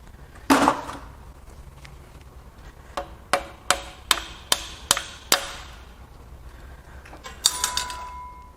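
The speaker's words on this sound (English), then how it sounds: "I need a real hammer." A hammer strikes metal while freeing a stuck dipstick on a 6.2L L94 Escalade Denali engine during teardown, six sharp evenly spaced clanks after an earlier knock, with a clatter near the end.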